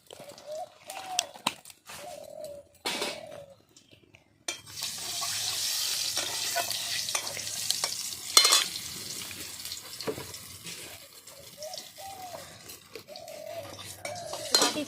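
Cumin seeds hit hot oil for tempering an egg and tomato curry, giving bursts of sizzling and frying amid clinking utensils and stirring, loud crackle dominating the middle and settling into a steady hiss.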